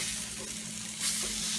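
Meat sizzles on a hot grill in a short, fairly quiet burst of steady frying hiss, with no one talking.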